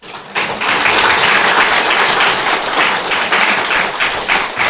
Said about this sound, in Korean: 인사할 때 격려로 박수로 격려해 주시면 감사하겠습니다